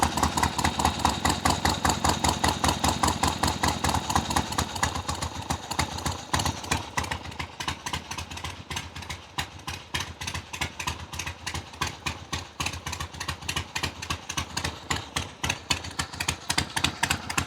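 A motorcycle fitted with loud drag pipes and no baffles idles close by in a steady, throbbing rumble with rapid uneven exhaust pulses, loud and continuous throughout.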